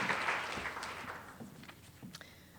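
Audience applause follows a keynote talk on material health and design, a brief, faint patter of clapping that fades out within a couple of seconds.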